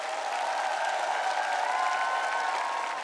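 A large TV audience at a choir competition final applauds the jury steadily, a dense wash of clapping with some cheering mixed in, sustained at an even level throughout.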